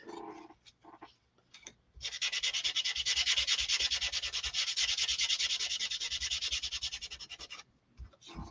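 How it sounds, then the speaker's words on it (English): Sandpaper rubbing steadily over a rough painted wooden clipboard, a continuous rhythmic scratchy back-and-forth lasting several seconds after a few brief handling scuffs, close and fairly loud. "I'm going to give this one, to look for it, a little bit of a sand. Just because it's a little rough."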